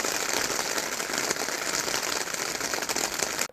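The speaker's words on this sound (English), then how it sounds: "As you can probably see, it's raining a little bit." Light rain falls steadily outdoors beside a London taxi, a continuous soft hiss of drops pattering on surfaces at an even level with no talk.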